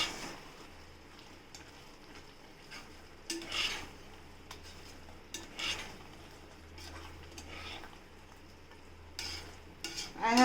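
A spoon stirs turmeric into a vankaya (eggplant) curry in a pan, scraping and clinking against the metal in irregular strokes over a soft low sizzle, fairly close.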